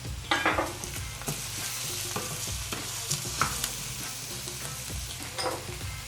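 Chopped garlic sizzles and fries with onions in a hot pan, a steady crackling hiss broken by occasional scrapes and clatters of stirring, close and fairly quiet.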